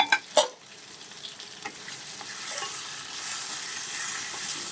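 Fried sea prawns land in a pan of frying onion and masala paste with a couple of sharp clatters, then a sizzle swells and holds steady while a spoon stirs, close and loud, with no talk.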